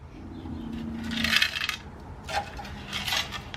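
Small hard objects clatter and jingle inside a metal piece in a few bursts of rattling, close by, with no voices.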